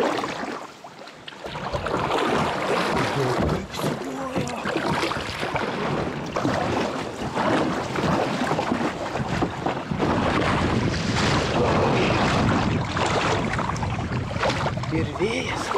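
Strong wind roars and buffets against the microphone out on Dūrių lake from a small boat, loud and continuous, with faint water sounds beneath.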